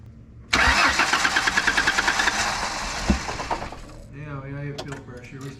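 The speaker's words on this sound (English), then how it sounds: "Let's start it up and see how that idles." A vintage Ford Mustang with fuel-pressure and idle troubles cranks and fires up loudly, the starter whirring rhythmically for a few seconds before the engine catches and settles into a rough idle, with a voice briefly heard over it.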